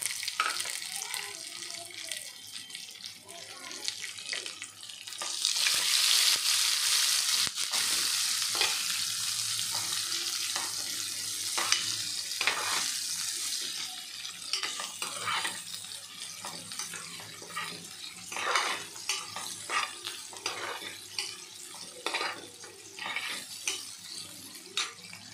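A large chopped onion sizzling in a pan for chicken pulao, a steady frying hiss with a louder burst early on and repeated scraping, clattering stirring strokes throughout.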